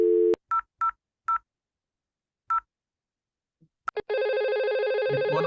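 A phone's number is dialed: a short tone, then several distinct keypad beeps spaced irregularly, followed after a pause by a couple of clicks and a sustained loud ringing tone that continues to the end.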